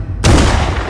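A single loud gunshot fired at photographs cracks out suddenly after a brief quiet, then decays into a rumbling tail that fills the rest of the moment.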